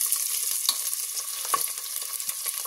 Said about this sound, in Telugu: ఈ ఆనియన్ అంతా బాగా బ్రౌన్ కలర్ వచ్చేదాకా ఫ్రై చేసుకుందామండి